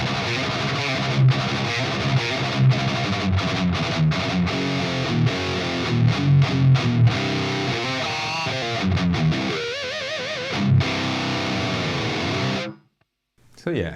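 Heavily distorted metal guitar through a Marshall Silver Jubilee 2555X amp, boosted with an SD pedal, plays dense palm-muted chugs and riffs close and loud, with a brief cut to silence near the end.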